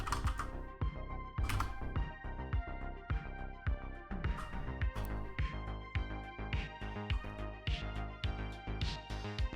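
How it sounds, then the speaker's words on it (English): Keystroke sound effects for a point-and-click game: a busy run of sharp, close clicks repeats in an uneven typing rhythm over a steady tonal backdrop, with no talking. "I think I actually do one of the typing sound effects."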